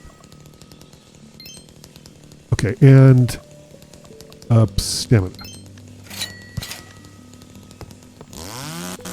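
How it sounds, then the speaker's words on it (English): A chainsaw revs in a video game set in a birch forest, heard as a few short, loud buzzing bursts between quieter stretches while a person talks over the game sounds. "Chainsaw. Yep."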